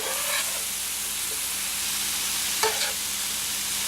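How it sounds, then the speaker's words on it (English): Cooked pork stir-fries in a hot pan with a steady loud sizzle, broken by a few brief scraping stirs and clanks of the utensil. "I'm going to re-add the cooked pork, and we're going to stir fry this just long enough to warm it up"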